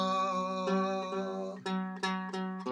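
Strings on a small backpacking guitar plucked while slightly out of tune, one long sustained note followed by several sharper plucks, close and clear with no talking.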